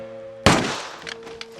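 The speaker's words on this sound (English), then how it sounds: "then looked toward the direction of the gunfire" A single sharp gunshot cracks loudly in a movie forest ambush, decaying over half a second, followed by faint rustling and a couple of small knocks.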